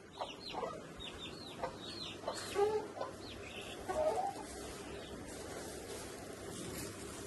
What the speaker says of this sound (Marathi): कोण म्हणतं कोंबडी उडत नाही.